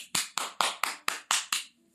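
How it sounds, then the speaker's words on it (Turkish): Hands clap seven times in a steady, evenly spaced rhythm, each clap a sharp, bright slap close up, with no talking over them. "Alkış, alkışlıyorum."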